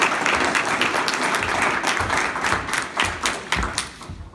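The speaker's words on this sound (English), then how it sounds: "But big round of applause," An audience at a community meeting with a state senator gives a round of applause, many hands clapping in a dense, steady patter that thins and becomes more scattered toward the end.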